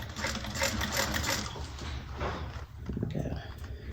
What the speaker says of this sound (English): And I'm just going to give it one little back stitch